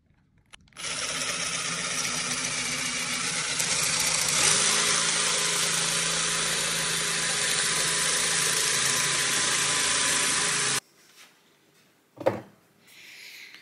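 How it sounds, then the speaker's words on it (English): A power drill turns a spade bit through oak, a loud, steady whine lasting about ten seconds, then stopping abruptly, followed by a brief thump. "I've drilled part of the way through with the spade bit until there's just a tiny hole on this side"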